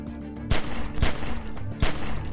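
Three loud gunshots crack out about half a second apart in The Walking Dead video game, each a sharp burst over a continuous rumbling game background.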